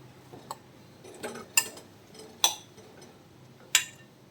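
Chopped tomatoes dropped into a clay pot for a tomato avial, giving a few soft, separate clinks and thumps spaced over several seconds against a quiet kitchen background.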